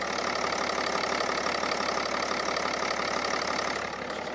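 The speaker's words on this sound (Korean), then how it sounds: "네, 6기통 3000cc 디젤 엔진입니다." A six-cylinder 3000cc diesel engine in a BMW 7 Series 730Ld idles steadily with the hood open, giving a loud, even, continuous mechanical rumble with light diesel clatter and no voices.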